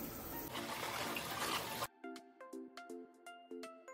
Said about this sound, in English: So then I'll go ahead and wash this head.